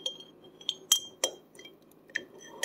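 A teaspoon clinks against a glass in a series of sharp, ringing taps, about seven bright strikes spread irregularly, close and fairly quiet, with no talking.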